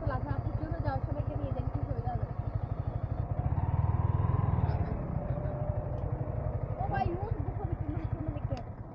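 Motorcycle near Purbachal Lake, its engine thumping steadily up close and briefly revving before it is brought to a stop for parking, with people talking over it.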